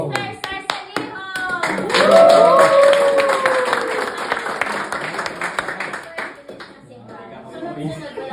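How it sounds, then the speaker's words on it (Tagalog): Loud, close audience clapping at a graduation day for an automotive engine skills training course in South Korea, rising into a strong burst of applause with cheers and chatter, then thinning toward the end. "kailangan malakas ang palakpak"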